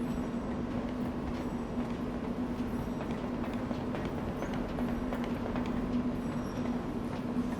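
A train at a station in the video game Lost Odyssey, heard as a steady rumbling, clattering rail noise with a constant low hum throughout, no voices.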